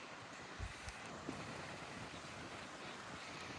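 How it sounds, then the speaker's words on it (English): Steady outdoor wind rushing with broadband noise and faint low rumbles, continuous throughout, with a couple of brief thumps near the microphone. "We made it to the beach and it is very windy."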